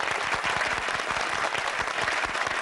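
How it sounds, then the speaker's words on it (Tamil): A studio audience at a Tamil TV debate show claps for the participants on both sides, a dense, steady round of applause at full strength throughout, with no voices standing out. "2 சைடும் பேசின நண்பர்களுக்கு நிஜமா ஒரு பெரிய கைத்தட்டல்களை கொடுத்துக்கிறேன்"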